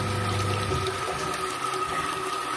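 Water runs steadily into a container at home, ready for mixing with Dettol disinfectant for cleaning. The flow is continuous and close, with a faint hum underneath and no talking.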